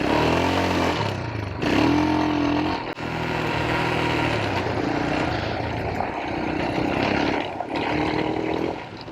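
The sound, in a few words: Royal Enfield Himalayan motorcycle riding off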